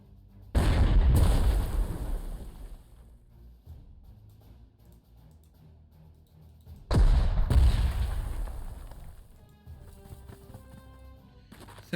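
Artillery fire in the World War II strategy game Panzer Corps 2, two heavy booming blasts several seconds apart, each a loud close thud rolling off into a long decaying rumble, with quiet ambience between.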